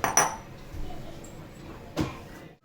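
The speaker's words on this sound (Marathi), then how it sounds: "तर मी हे बाउलमध्ये ट्रान्सफर करते" A few light clinks and a soft scrape of a utensil against a bowl as chopped snake gourd is tipped in, with two sharper knocks a couple of seconds apart.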